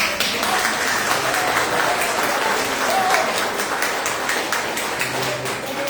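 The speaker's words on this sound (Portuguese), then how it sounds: "Gente, uma salva de palmas" A round of applause from a gathered audience, a continuous wash of clapping at moderate level, somewhat distant and even throughout.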